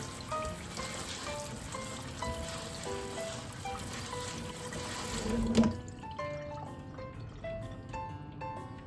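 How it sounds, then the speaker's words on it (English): Cool tap water streams steadily into a strainer of hot chicken feet, a continuous splashing rush with scattered metallic clinks, briefly louder as the flow shifts, no talking. "we're gonna run some cool water over them just to be able to handle them"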